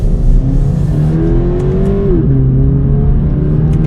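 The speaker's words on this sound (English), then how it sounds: "I think the Toyota 86 sounds really good." A 2020 Toyota 86 Hakone Edition engine drones steadily from inside the cabin, pitch rising then dropping as it shifts, with a constant low rumble.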